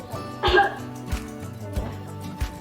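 Deliberate effective coughing after deep breathing exercises, a few short forceful coughs at close range amid quiet breathing and background hum.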